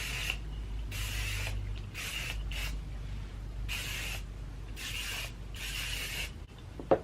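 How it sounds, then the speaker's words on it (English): Several bursts of aerosol spray hiss in quick succession, each lasting about a second, close to the microphone with a faint hum underneath. "I love this hairspray because it doesn't really make your hair like hard or like sticky"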